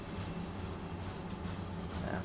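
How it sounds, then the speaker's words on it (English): Rhaetian Railway train running in Train Sim World 2 on the Chur to Arosa line, a steady low rumble and drone of the moving train throughout, with no distinct clicks standing out. "So this is a train, RhB."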